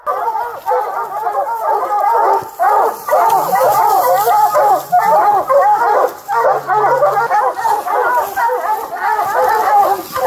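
Pack of hunting dogs baying at a treed bear during an Idaho bear hunt: dense, continuous overlapping barks and yips from several dogs at moderate distance, with a low hum underneath.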